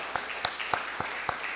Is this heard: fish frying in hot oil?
no